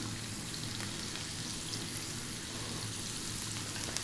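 Onion and cumin seeds sizzling in hot oil over high heat, a steady, dense crackle and hiss that holds evenly throughout with no talking.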